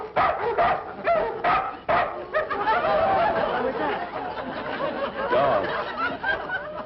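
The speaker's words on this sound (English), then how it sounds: "They've got barking dogs." Several dogs bark and yip at night in an old sitcom scene, a run of repeated close barks with some whimpering in between, carried on a thin, narrow-band broadcast soundtrack.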